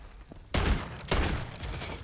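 Two loud bursts of gunfire ring out back to back while players shoot at zombies in Modern Warfare 3 Zombies, followed by a trailing rattle of further shots.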